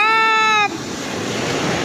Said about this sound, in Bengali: আজকে মারাত্মক ঢেউ।